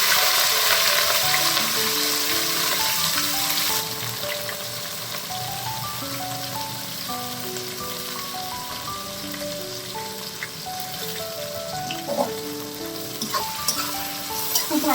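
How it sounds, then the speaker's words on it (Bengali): Chopped onions frying in a pan give a continuous soft sizzle with occasional stirring scrapes, sitting beneath melodic background music. "পেঁয়াজ খানিকটা ভাজা হয়ে গেছে।"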